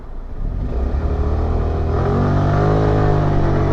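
Suzuki Address 125 scooter accelerating at full throttle, its engine drone building steadily and rising in pitch over a few seconds, close and loud with constant wind rush.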